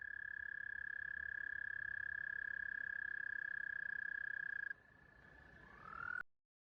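A frog in a pond gives one long, steady, loud call that holds unbroken for several seconds, then drops sharply in level and ends in a brief rising squeal before cutting off.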